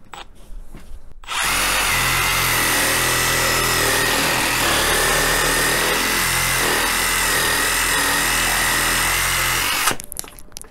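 Makita DJR187Z cordless reciprocating saw fitted with a short blade cuts through a wooden log. The motor snaps on into a loud, steady, harsh buzz that holds for about nine seconds, then stops abruptly. No one speaks.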